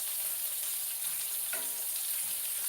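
Onion rings fry in hot oil with a soft, steady sizzle and faint crackle, heard at a low level throughout.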